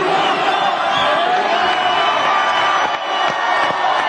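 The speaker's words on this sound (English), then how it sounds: "Everybody's screaming right now." A rally crowd in Michigan screams and cheers in a dense, loud, continuous roar of many voices, with whoops and shouts rising out of the mass and no break in the noise.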